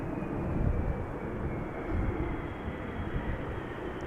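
A China Southern Cargo Boeing 777 freighter arrives at Amsterdam Schiphol on a breezy day, a steady broad jet roar with low rumble that swells gently, no voices.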